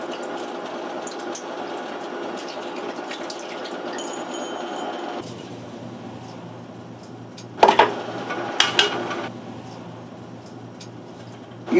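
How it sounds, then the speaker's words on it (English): Stock poured into a hot roasting pan to deglaze it after roasting chicken, giving a steady sizzling, bubbling hiss, with a few sharp clatters near the end and no talking. "We're going to add a little stock."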